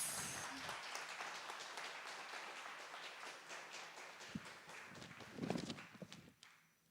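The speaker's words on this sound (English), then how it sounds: "Please give a huge round of applause" An audience at a constitution quiz grand finale applauds, a dense patter of claps that runs steadily for several seconds, then thins out and fades near the end.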